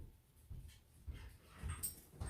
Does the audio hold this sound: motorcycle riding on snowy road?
no